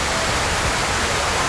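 Rushing water pours steadily into the 9/11 Memorial pools in New York, a loud, continuous broadband roar filling the whole moment with no breaks or talk.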